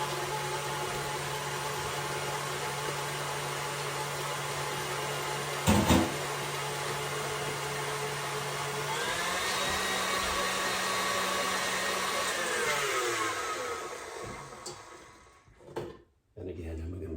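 An electric hand mixer stirs a cracked egg into chocolate chip cookie dough, running as a steady loud whirring drone for many seconds, shifting in pitch midway, with a brief clunk, then cutting out near the end.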